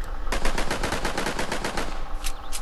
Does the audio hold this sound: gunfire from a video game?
yes